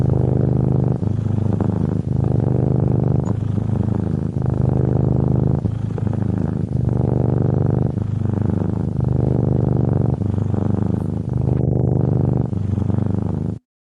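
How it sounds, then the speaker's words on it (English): Cat purring close and steady, a low rumbling rhythm of long breaths in and out repeating about every second with brief pauses between cycles, alone without other sounds. "It's a cat purring."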